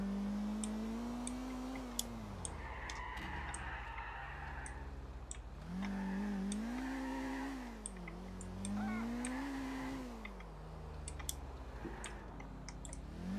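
A car being driven in the video game GTA IV, its engine tone rising and falling steadily with gear shifts and speed changes, with scattered clicks over a constant game background.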